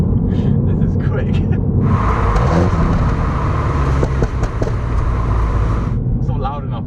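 A remapped Mini Cooper S accelerates hard in a burst of rising engine noise with an automatic rev-matched downshift, heard from inside the car under steady road rumble while occupants talk.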